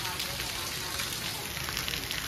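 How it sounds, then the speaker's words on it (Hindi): Heavy rain falling in a village yard: a dense, steady hiss of downpour fills the whole stretch, loud and even, with a voice faintly beneath it. "तो अभी बारिश चालू है फुल जोरों से, गाइस बारिश आ रही है।"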